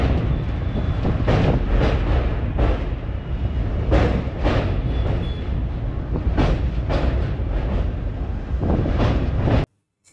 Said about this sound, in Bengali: এখান থেকে ট্রেনটা ঘুরে ঘুরে কামাখ্যার দিকে ছুটে চলে